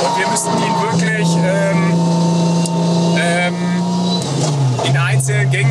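A 1000 hp car runs at full throttle on a racetrack, its loud, steady engine drone holding close and dominant throughout, shifting pitch briefly near the end as a voice talks over it.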